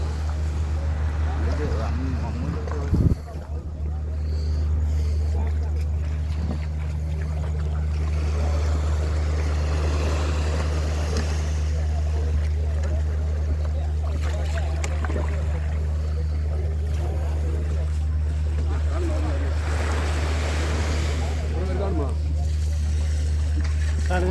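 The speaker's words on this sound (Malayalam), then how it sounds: "നമ്മുടെ വിഴിഞ്ഞങ്കടപ്പുറത്ത് ഒരു വള്ളം വന്നിട്ടുണ്ട്" A fishing boat comes in at Vizhinjam beach at night, its engine a steady low drone that holds throughout, with wind and surf noise on top and a brief knock near the start; voices murmur in the background.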